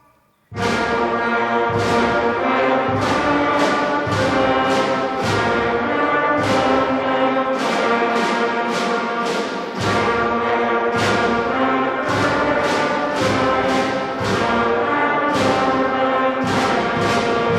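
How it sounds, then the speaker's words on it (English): A sixth grade school band of brass and woodwinds plays a French folk song at a concert. Sustained chords move in a steady repeated rhythm, loud and full throughout, with a brief dip in the middle. No one speaks. "So this one is the French folk song."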